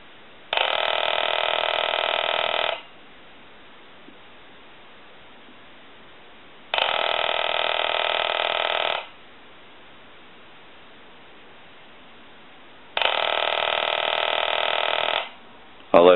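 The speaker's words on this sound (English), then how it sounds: "They have a solenoid that gives a mechanical kind of a knocking or buzzer sound." A small Takara French-style desk telephone's solenoid ringer gives a mechanical buzzing, knocking ring in three steady bursts of about two seconds each, separated by quiet pauses, close and loud.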